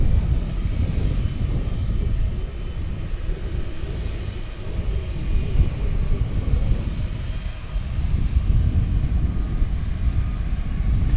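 Boeing 757 jet airliner at DFW airport, a continuous low engine roar heard from some distance that holds steady throughout, with no voices.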